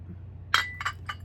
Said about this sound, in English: Then we have a mayonnaise in pink